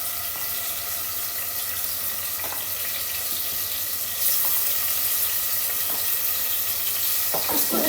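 Chicken sizzling in a pan with garlic and ginger, a loud, steady frying hiss throughout that grows brighter about halfway, with a few faint clinks near the end.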